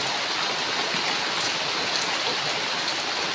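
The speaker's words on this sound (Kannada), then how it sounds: "ಸ್ವಲ್ಪ ನೀರು ಹಾಕವು ಹಿಂಗೆ ಸ್ವಲ್ಪ ನೀರು ಹಾಕಿ" Continuous splashing rush of water being poured onto pressed-down soil around a newly planted sapling, steady and close throughout.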